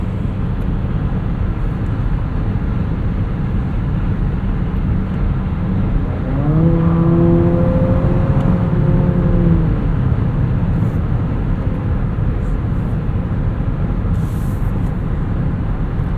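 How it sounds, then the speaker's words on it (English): 2025 Nissan Murano Platinum AWD with a 9-speed automatic cruising on the road, a steady engine and road drone with a brief rising tone midway as the transmission shifts. "This 9-speed auto is always trying to find the tallest gear to save fuel."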